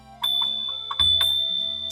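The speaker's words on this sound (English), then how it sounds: "Ring the bell." A bright, sustained electronic bell tone rings steadily, overlaid with a few soft chiming strikes, fairly close and loud, with no talking.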